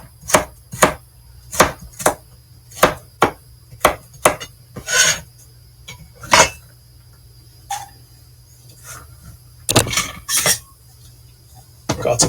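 A knife dices vegetables into small cubes, chopping sharply on a board in a quick series of taps, pausing, then resuming, with a faint steady hum behind.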